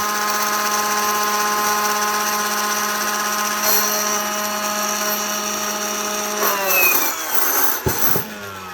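A Ryobi 40V HP 18-inch cordless chainsaw, being tested for oil feed, runs with a loud, steady electric whine. Toward the end it dips and surges briefly, with a few close knocks and rattles.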